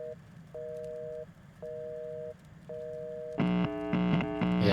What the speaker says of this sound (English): why do I hear a phone off the hook?